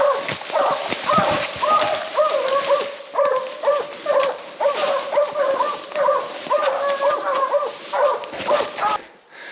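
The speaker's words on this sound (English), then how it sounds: "That one dog doesn't sound familiar." Hunting hounds barking in the woods during bear hound training, a steady run of repeated barks and bays from more than one dog, fairly close, with a faint voice briefly underneath.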